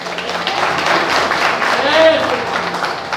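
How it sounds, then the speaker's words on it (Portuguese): Church congregation applause, a crowd of hands clapping under a voice speaking over it, fairly loud and sustained for a few seconds. "Pode aplaudir a Jesus."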